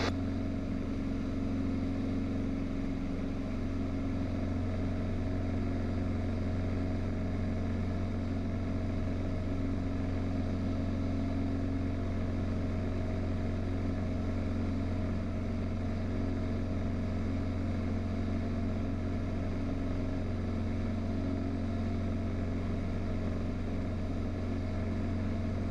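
A Mooney M20J single-engine plane climbs after takeoff, its engine droning as a steady, loud, constant hum heard from inside the cabin with no speech.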